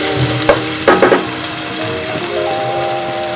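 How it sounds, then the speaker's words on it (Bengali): Salted potato pieces frying in a pan, with a loud continuous sizzle and a few sharp scraping stirs near the start, no speech. "ভালোভাবে একটু নেড়ে নেড়ে ভেজে নেব।"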